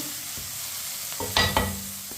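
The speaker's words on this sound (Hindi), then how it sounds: "ऐसे ही चम्मच चलाते हुए पकाएं। 3 मिनट के लिए मैंने टमाटर को पका लिया है।" Tomatoes soften in a pan over a low, steady sizzle while a spoon scrapes and clinks against the pan in a few quick strokes near the end.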